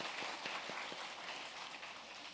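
Church congregation applauding in thanks for the media team during Sunday worship, a faint, distant, even patter of many hands clapping, with a few sharper claps early on.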